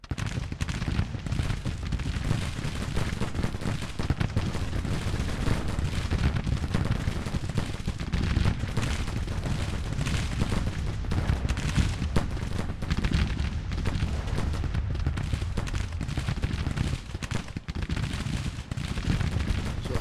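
Dense, continuous battle gunfire and artillery from the strategy game Grand Tactician, set in a Civil War campaign, with rapid overlapping musket and cannon reports and booms forming a loud, unbroken roar throughout.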